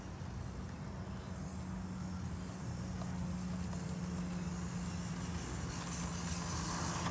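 A Kyosho Mini Z Toyota 4Runner RC car running at full throttle gives a steady, faint motor whine against a constant noisy background, with no talk.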